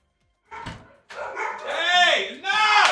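Pet dogs bark in a quick run of loud, close yips and bow-wows, starting with a short bark and then building into longer, excited barking.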